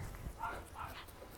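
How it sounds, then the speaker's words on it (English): A dog snarling and growling in short, low, close bursts during a tense encounter at a park, two or three rough pulses within about a second and a half. "her dog's the one that's actually snarling and trying to bite."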